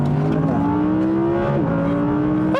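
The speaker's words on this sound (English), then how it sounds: "Listen to the way this thing revs. It just revs for days." A high-pitched 2020 Audi R8 mid-engine V10 revs repeatedly, its tone climbing and dipping in sharp sweeps, loud and close.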